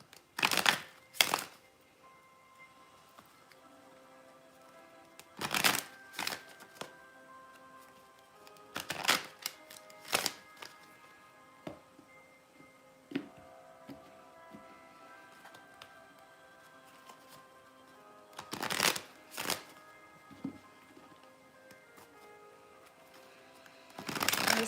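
Tarot cards are shuffled by hand before a reading, coming as short crisp riffling bursts separated by quiet pauses, with faint tones humming underneath.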